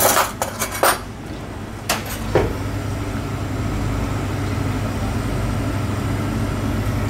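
Metal spoons clink against a pot of homemade rendang, giving several sharp, close clatters in the first couple of seconds before a steady low background hum takes over.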